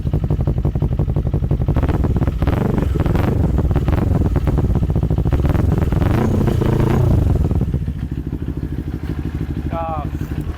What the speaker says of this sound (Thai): ไปเดี๋ยวเรามาสตาร์ทฟัง อ่าเชิงเดียวติด เครื่องยังฟิตอยู่เลย